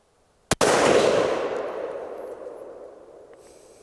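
A single rifle shot fired from a tree saddle cracks sharply close by, followed by a long echo that fades away over several seconds.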